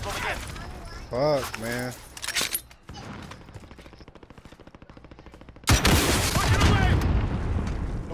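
Gunfire in a Call of Duty: Warzone match, bursts of rapid shots and a loud sustained barrage near the end, mixed with a player's excited talk.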